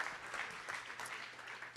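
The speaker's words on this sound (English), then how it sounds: "Another round of applause for our awesome presenters." Audience at a New York tech meetup applauding presenters, steady clapping from a crowd heard at a fair distance, fairly soft and even throughout.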